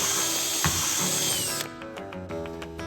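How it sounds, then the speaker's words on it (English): A pocket hole drill with a depth collar bores into wood for a clock cleat, a steady high whine held under the trigger as it plunges down, then dropping to a lighter spinning rattle as the bit backs out. "Just like any other drill procedure, I'm gonna keep my finger on the trigger all the way down and back out."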